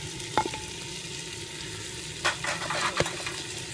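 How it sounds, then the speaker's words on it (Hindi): Cabbage with green chilli, whole black pepper and black cardamom frying in a pan, a steady low sizzle broken by a few sharp spoon scrapes and clatters near the start and toward the end, with no voices. "ये डाल के 5 मिनट को अच्छी तरह से भून लेंगे"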